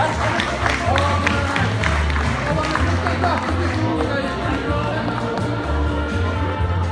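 Dense crowd applause at a village Saint Vincent festival, a steady wash of many hands mixed with cheering and crowd noise, loud and sustained throughout.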